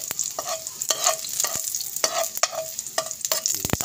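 Onion, tomato and Mega sardines sauté in a pan with a constant sizzle, while a utensil stirs and scrapes in quick, irregular knocks close by.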